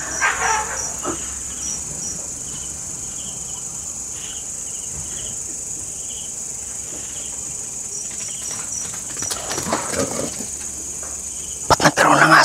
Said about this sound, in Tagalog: Ba't nagkaroon ng aso dito?